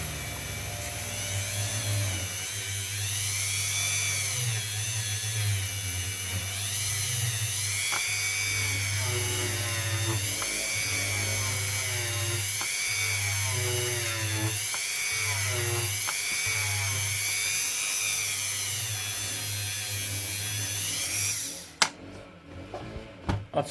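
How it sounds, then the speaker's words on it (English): Grass-cutting machinery running outside an apartment building, a loud continuous high whine with wavering pitch and a low droning hum, sustained throughout before stopping abruptly near the end. "they're cutting the grass and everything outside our apartments"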